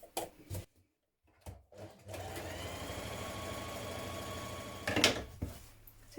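A sewing machine stitches the sides of a fabric storage box, running in a steady continuous whir for several seconds after a few short clicks and stops, ending with a brief louder burst.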